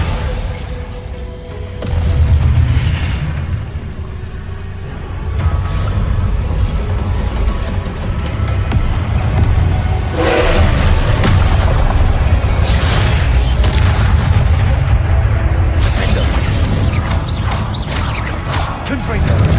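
Descendo slam spell cast in the Hogwarts Legacy video game, heavy booming impacts and rumbling crashes over dense game sound effects and music, with a voice speaking over parts of it.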